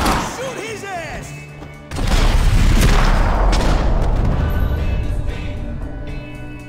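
Gunfire and heavy booms from a Max Payne 3 shootout, a sustained loud barrage that kicks in about two seconds in and rolls on, with shouted game voices over the top.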